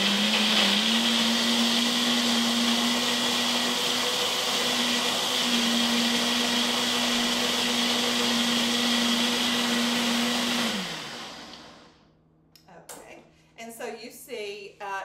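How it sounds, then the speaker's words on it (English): A kitchen blender whirs loudly and steadily as it purées a pumpkin green smoothie made with coconut milk, its motor humming at a constant pitch for about eleven seconds before winding down, followed by a voice. "I'm going to blend this up, and then I'm going to add some ice to it."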